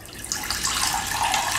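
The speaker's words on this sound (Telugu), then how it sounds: "ఇందులోనే నీళ్ళు పోతున్నాను చూడండి" Water is poured into a bowl of ragi flour mixture for making pittu, a short bubbling splash that swells into a continuous close, bright trickle.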